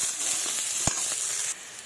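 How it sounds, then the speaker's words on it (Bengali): Chopped onions with nigella seeds fry in a wok, giving a steady close sizzle and hiss with one brief sharper crackle partway through, and no talking. "এবার এটাকে ভালোভাবে একটু লাল লাল করে ভেজে নেব।"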